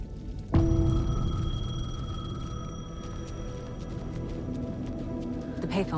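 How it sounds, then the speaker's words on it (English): A payphone rings in the Alan Wake 2 video game, a sustained electronic ring tone that starts abruptly and holds steady over a dark ambient bed, fading as faint rattling sounds rise near the end. "The payphone was ringing."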